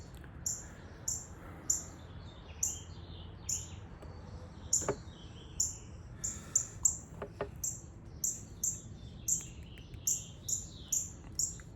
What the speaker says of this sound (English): I've got some kind of a songbird nest, and then I've got a cardinal nest as well.